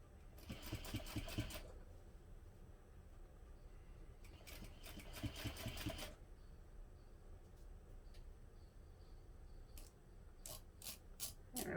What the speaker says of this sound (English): now we're going to top stitch along that seam using a 1/8 inch seam allowance